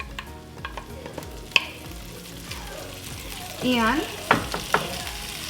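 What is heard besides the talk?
onions and peppers frying in a pan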